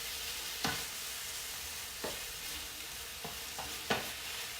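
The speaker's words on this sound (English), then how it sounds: "So the ground beef is cooking." Ground beef sizzles in a pan with a steady frying hiss, broken by a few sharp scrapes of a utensil stirring the meat, no voices.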